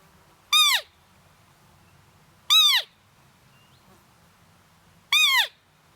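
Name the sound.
roe deer call imitating an agitated doe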